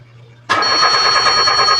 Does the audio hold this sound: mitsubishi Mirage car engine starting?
yes